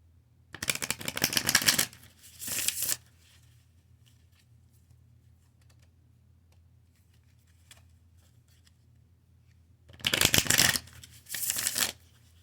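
Stiff, new tarot cards being shuffled in two bursts, the first around a second and the second a bit shorter, then quiet, then two more bursts. Close, crisp riffling, alone with no talk.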